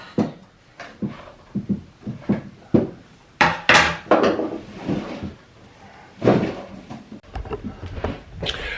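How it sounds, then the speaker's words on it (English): Wooden drawers being slid and set into a closet in a log home, a series of close knocks, scrapes and hollow thunks in uneven bursts, some sharp and loud, with short quiet gaps between. "now Gary's putting the drawers in"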